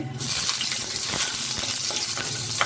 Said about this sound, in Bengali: আমি 5 ফোড়ন দিয়ে ডালটা সম্বার দেবো আর ধনেপাতা দিয়ে নামাবো।